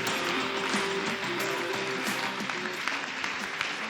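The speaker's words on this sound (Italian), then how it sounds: "facciamo un applauso alla pallanuoto, alle ragazze di Rapallo" Applause from a crowd honoring the women's water polo team from Rapallo at a sports evening, a steady dense wash of clapping held at even loudness, with a faint tone running under it.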